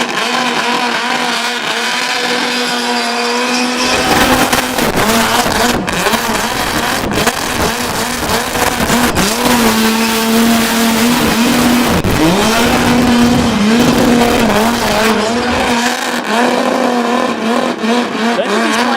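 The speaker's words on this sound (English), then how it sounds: "Just tone of that 250 X-Flow engine combination with a mechanical blower on top." A race car's 250 Crossflow engine with a mechanical supercharger revs hard and close, roaring, rising and falling in pitch through gear changes for a long stretch at a burnout event.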